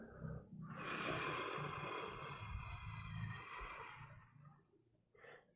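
A long, forceful exhale through the nose during a guided meditation, loud and close and lasting about three seconds, followed by quieter breathing.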